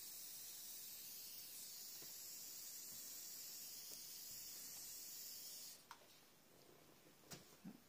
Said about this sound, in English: gently spray that to fix it.